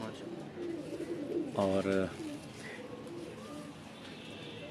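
Heera Lal pigeons coo in a brief, low, warbling burst at mid-distance, under a man's speech and steady background noise.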